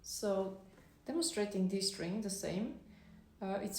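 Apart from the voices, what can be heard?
No everyday noises stand out.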